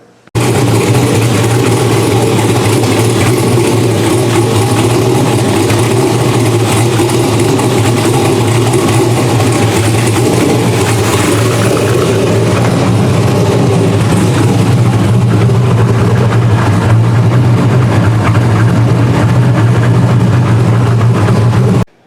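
An engine rumbles steadily throughout, a low, continuous idle that stays loud and close with slight variations but no clear revving.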